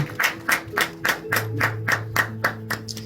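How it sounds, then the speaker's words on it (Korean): Church congregation at a Sunday worship service clapping in unison, about ten even rhythmic claps with a sustained keyboard chord underneath. "하나님께 영광의 박수 올려드리겠습니다."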